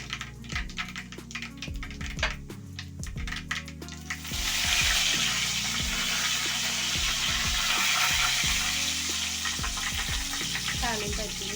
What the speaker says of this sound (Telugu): తాలింపు వచ్చింది బంద్ చేసేస్తున్నాను.